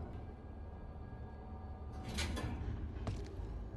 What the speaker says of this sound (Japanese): ドアが閉まります。